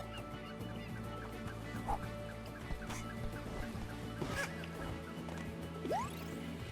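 Faint honking squawks from a bird in A Hat in Time, scattered through quiet game background sound, with no speech.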